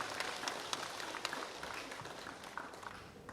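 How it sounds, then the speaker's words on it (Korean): A seminar audience at a nature-conservation lecture applauds the speaker with soft, distant, continuous clapping and a few sharper individual claps. "큰 박수 부탁드립니다."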